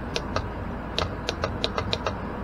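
A GM G-body cruise control servo unit on a bench test gives a string of about eight sharp, light mechanical clicks at uneven intervals, close-up and alone over a soft background hiss.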